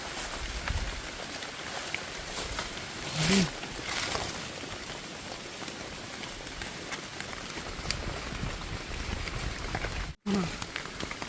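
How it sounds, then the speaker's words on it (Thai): Rain patters steadily on leaves and ground in a forest while wild mushrooms are gathered, a close, even hiss of drops with a few louder rustles and brief faint voices. "ฝนมันตก"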